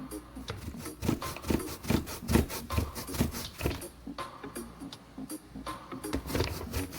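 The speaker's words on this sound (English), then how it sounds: "I'm finished grating the cassava." Cassava being grated by hand on a grater gives a close, rhythmic series of rough scraping strokes, roughly two or three per second, with no voices over it.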